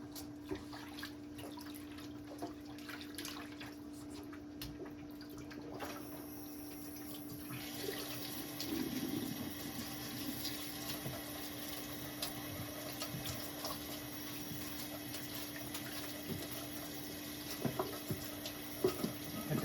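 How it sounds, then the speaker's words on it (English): Cold water runs from a tap into a kitchen sink in a steady, quiet stream, with a faint constant hum underneath and a few small clunks and splashes. "run cold water in there"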